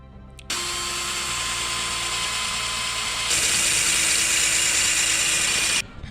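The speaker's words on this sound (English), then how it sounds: "Drill that out." An electric drill whines steadily and loud, bores holes for a motorcycle gas tank mount on a Mega Moto, its pitch shifting partway through before it stops abruptly.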